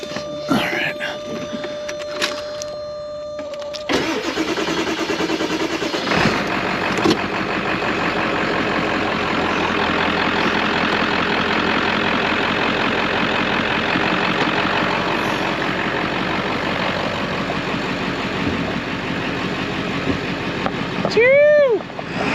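A 1995 diesel convertible truck engine cranks and catches, then settles into a loud, steady rumbling idle with a whining overtone, heard close up with voices talking over it.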